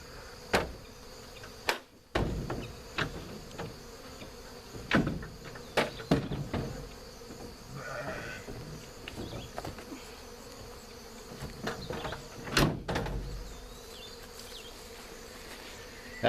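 A swarm of honey bees hums steadily through a capture into a box with a Porta Chute, nearby and constant, broken by scattered knocks and thumps of handling.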